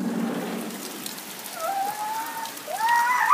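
Rain pours steadily outdoors on people showering in it, a soft constant hiss with rising whistle-like tones near the end, fairly faint and without talk.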